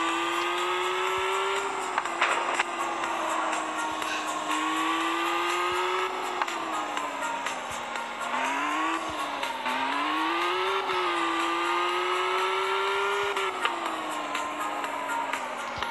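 A car engine in a GTA 5–style driving game drones steadily, its pitch rising and falling as the car accelerates and shifts gears, with occasional bumps and brief tire noise, loud and continuous without talking.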